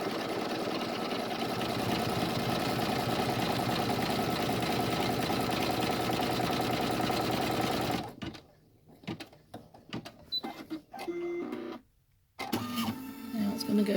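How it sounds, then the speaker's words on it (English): A sewing machine stitches a double zip splash bag in a fast, loud, continuous mechanical whir for about eight seconds, then breaks into short stop-start bursts and handling sounds with brief pauses. "Now it's going to go to the other side, and it's going to sew up this way."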